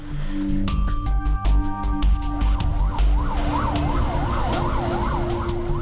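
An ambulance siren wails in a fast rising-and-falling warble, loud and close, with traffic noise and horn-like tones around it, on a road in South Korea.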